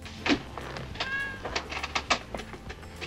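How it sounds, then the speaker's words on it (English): A kitten gives one short meow in a quiet room, set against soft thumps and shuffling from the opening scene of The Godfather, with the cat held in an actor's lap at a desk. "The happy kitten purring in Brando's lap stands out in this solemn setting."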